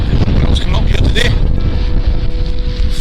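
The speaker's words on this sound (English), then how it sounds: "It's invigorating, but it's very windy up here." Strong gusty wind on an exposed hilltop in the Pentland Hills batters the microphone with a loud, continuous low roar and rumble, and a voice talks faintly underneath.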